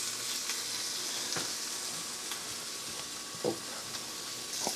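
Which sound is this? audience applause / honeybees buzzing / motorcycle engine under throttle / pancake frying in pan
pancake frying in pan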